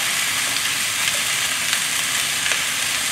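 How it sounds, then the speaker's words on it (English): Vegetables stir-fry in a pan over a dry, high flame, a loud, dense, continuous sizzle close up with faint stirring scrapes and no voices. "Dry, high heat, flame, stir fry. So caramelize your vegetable."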